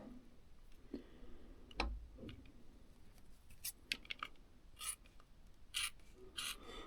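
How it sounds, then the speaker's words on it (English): A homemade gasket for a Giant Fathom E3 ebike is trimmed by hand, giving faint, sparse snips, scrapes and small ticks scattered irregularly across a quiet background. "let me just trim that piece off that, I suppose"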